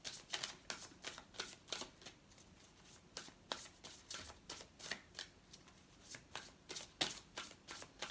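A Fairy Tarot card deck is shuffled by hand close up, giving a run of quick crisp riffling flutters and soft card taps in an uneven rhythm with no talking.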